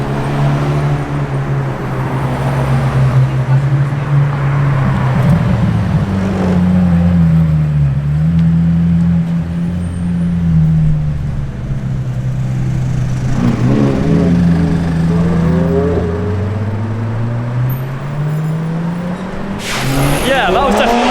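A wide-body BMW M3 drives past on a London street, its engine rising and falling through several gear changes and growing louder as it nears. A voice talks over it.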